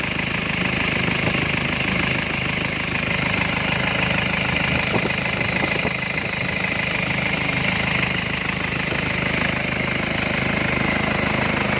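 An Isuzu Thai Rung diesel pickup engine idles steadily nearby, a constant low rumble with a slight knocking rhythm running through the whole stretch.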